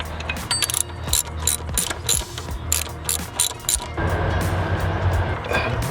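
A 13mm ratchet turns bolts on a Chrysler 300 water pump, giving quick bursts of loud, close pawl clicking, followed by a steadier mechanical whir.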